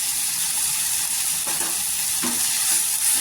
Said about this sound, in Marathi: मीठ टाकल्यानंतर आहे ना 2 मिनिटं छान अशी परतून घ्यायची तेलावरती